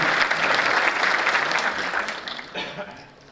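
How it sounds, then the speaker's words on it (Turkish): An audience at a choir concert for the 101st anniversary in Samsun claps warmly, a broad wash of many hands that holds loud, then thins and fades out toward the end. "Güzel bir alkışla da onları teşekkür ediyorum kendilerine."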